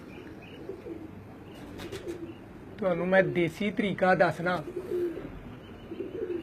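Domestic pigeons coo in a low, throaty, repeated rumble nearby, soft bursts recurring through the stretch, while someone talks over them in the middle.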